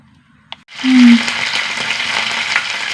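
Mustard seeds dropped into hot oil give a single click, then a sudden loud sizzle that keeps crackling and spitting steadily close by.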